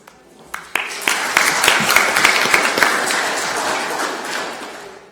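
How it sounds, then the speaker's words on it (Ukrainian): Audience applause breaks out at an investment agreement signing ceremony for port construction, starting with a few sharp claps and swelling into steady, dense clapping from a sizable room that carries on to the end. "Я думаю, это заслуживает аплодисментов"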